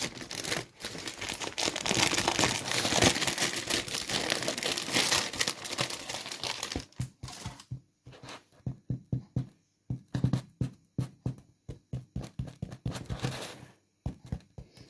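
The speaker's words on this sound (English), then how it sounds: "And take our greaseproof baking paper off." Greaseproof baking paper crinkles and crumples steadily up close as it is peeled off freshly baked bread, then breaks into a series of separate short rustles and tearing peels.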